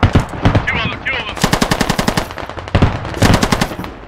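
Sustained M249 SAW light machine gun fire in the Squad video game, long rattling automatic bursts with short gaps between them, loud and close, with other battle noise mixed in.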